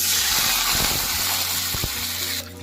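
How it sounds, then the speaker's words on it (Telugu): Three glasses of water poured into a kadai with ghee in it make a continuous close splashing gush that ends abruptly near the finish. "అదే కడాయిలో మూడు గ్లాసులు నీళ్ళు వేసుకుందాం"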